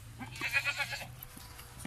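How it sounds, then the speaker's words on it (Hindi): A male goat of a good breed bleats in a short wavering burst, close and moderately loud. Faint background noise and a low hum sit beneath it. "बहुत अच्छी ब्रीड है, बहुत ही अच्छा बकरा है"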